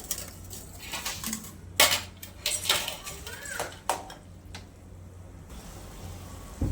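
Boondi being stirred in a pan for a few minutes for boondi laddu: scattered metal scraping and clinking of a spoon against the pan, irregular and close, over a low steady hum.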